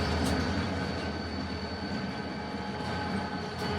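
A steady, loud rumble of BNSF freight locomotives, one green and black and one orange and black, idling or rolling at a rail depot in Las Cruces, New Mexico, with no voices and a continuous mechanical hum.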